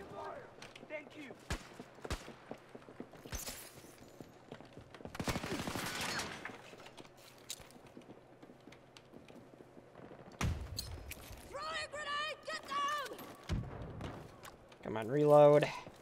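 Assault rifle fire in Battlefield 2042, with several short bursts and single sharp shots spread across the stretch, mixed with game effects and a voice talking at moderate level.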